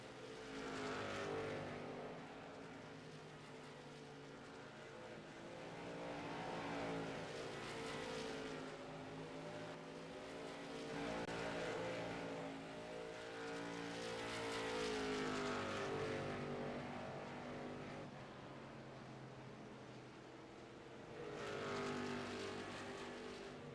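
Race cars lapping the track in a racing video game, engine drones rising and falling in repeated waves as cars sweep past, a steady layered whine that swells and fades every few seconds.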